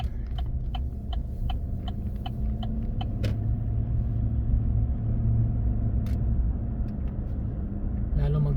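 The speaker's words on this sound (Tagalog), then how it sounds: "Napaka-traffic." Heavy road traffic as a constant low rumble of engines nearby, with a quick series of light ticking clicks early on and a sharp brief noise partway through.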